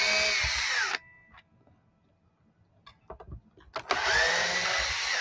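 Power drill driving screws into an electric guitar, two loud sustained whirring bursts near at start and end, separated by quiet ticks and handling clicks.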